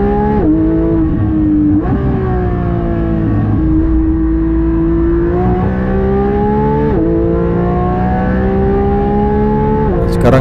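A Porsche GT3 race car engine drones loud and steady on a racing circuit, its pitch climbing and dipping through gear shifts and throttle changes, with a brief rasp near the end.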